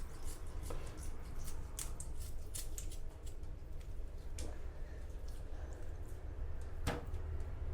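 Food being cut up for tegu lizards, probably with scissors: a series of faint, sharp snips and clicks spaced irregularly over a low, steady background hum, with one crisper snip near the end.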